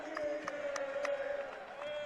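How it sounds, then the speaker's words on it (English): Turkish fans in a basketball arena cheering and singing a celebratory chant at an under-23 world championship game against Brazil, a sustained crowd roar with a held sung tone and a commentator speaking over it. "And Turkey with the cheers of their crowd"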